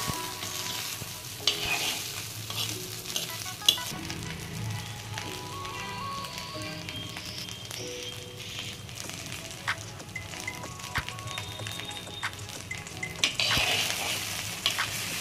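Idli roasting in ghee on a stove at medium flame, a steady close sizzle and fry with occasional scraping stirs of a spatula, and faint voices now and then.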